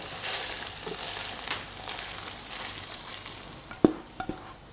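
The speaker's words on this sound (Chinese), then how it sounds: "继续翻炒。 把肉馅炒香" Minced meat filling stir-fried in a pan with bean paste and soy sauce, a steady low sizzle with soft scraping strokes and a sharp clack of the spatula near the end.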